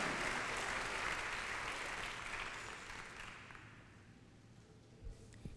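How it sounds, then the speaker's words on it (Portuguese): A church congregation applauds during a Wednesday worship service, a broad wash of clapping that starts strong and gradually fades away over several seconds. "Vamos aplaudir ao Senhor"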